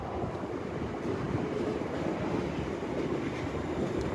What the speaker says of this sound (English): Coming in on this platform next to me as well is Avanti West Coast Pendolino.